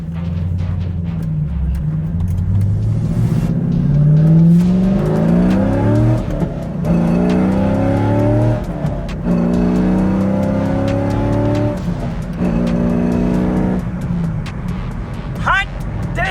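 Chevrolet C5 Corvette accelerating hard with exhaust valves open, loud engine note climbing through the gears in repeated rising sweeps with brief drops at each shift, a voice talking over it.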